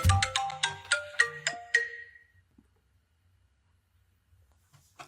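A cell phone ringtone from an incoming call: a quick run of bright melodic electronic tones for about two seconds, then cut off into near silence with faint room noise.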